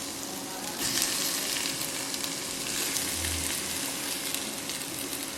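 Boiled, mashed potatoes are stirred in a hot pan, giving a steady, close sizzle and frying hiss with soft scraping stirs and a low thud partway through, no voices.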